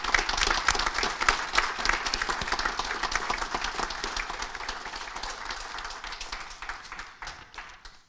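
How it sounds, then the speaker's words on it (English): A large audience at a college graduation ceremony gives a sustained round of applause for the graduates, with many hands clapping densely, strongest at first and gradually tapering off. "we might give a special round of applause to all our graduates to wish them well in the future"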